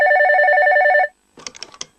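A cartoon telephone bell rings loudly and steadily in rapid pulses for about a second, then stops, followed by a short burst of a character speaking.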